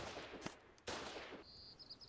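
Artillery gun firing in the video game Foxhole: two sharp, loud blasts about half a second apart with a noisy tail, followed by faint high chirping tones.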